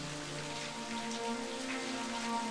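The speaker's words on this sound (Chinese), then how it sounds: "今天下雨没法出工。" Steady rain falls on a surface in a drama scene, a dense, even patter that continues through the clip with no voices.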